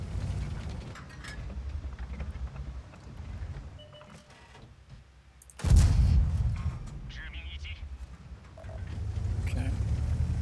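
Tank cannon firing in World of Tanks, a single heavy boom partway through, standing out above a low engine rumble and mechanical clanks, with someone talking around it.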